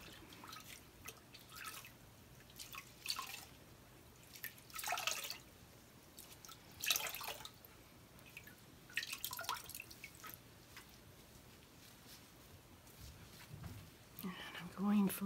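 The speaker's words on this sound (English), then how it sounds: "Rinse it out again." Water drips and splashes faintly in scattered bursts as a cup is rinsed out during acrylic pour painting, with quiet, whispery talk underneath.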